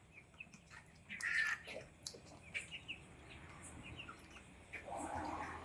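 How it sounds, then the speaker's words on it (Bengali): Sick chickens with E. coli infection in the rainy season making faint wheezing, rattling calls, scattered short rasping sounds and chirps at low volume amid quiet background noise. "পাখির ডাকও শুনতে পাচ্ছেন, খিচখিচ করে আওয়াজ করছে"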